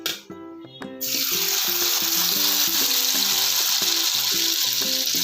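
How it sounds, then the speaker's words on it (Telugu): Small nettallu fish fry in hot oil with a loud, steady, close sizzle that bursts in suddenly and keeps crackling, after a few clinks of utensils at the start. "ఇవి వేగుతున్నాయి."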